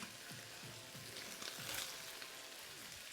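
Onions sizzle and hiss in a hot pan for a beef curry, with a few rhythmic scraping tosses and a swell of frying noise midway, steady and close.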